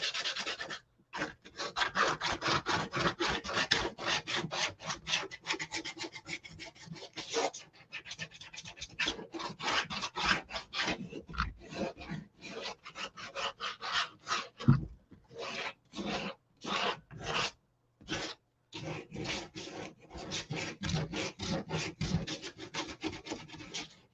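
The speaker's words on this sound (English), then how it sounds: "I'm trying to get a hold of my sandpaper" Sandpaper rubs briskly over a wooden dough bowl to lightly distress it, a close, dry rasping in quick back-and-forth strokes, sometimes continuous and sometimes broken into short bursts with brief pauses.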